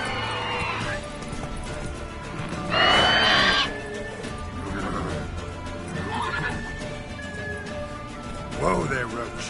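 Roach, the horse from the video game Witcher 3, lets out loud whinnies, one burst near the start and another near the end, over game music with faint hoof clops.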